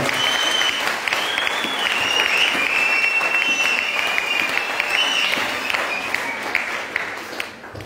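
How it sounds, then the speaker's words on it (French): A church congregation at an anniversary Mass applauds together in a dense, sustained burst of clapping that fills the space for several seconds before starting to thin out. "Peuple de Dieu, pour la présence de l'abbé Rosel, on acclame aussi le Seigneur"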